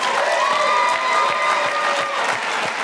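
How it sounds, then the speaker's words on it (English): An audience at a leadership training event gives a sustained round of applause, dense and steady clapping from a large crowd throughout with no break. "give this man a round of applause"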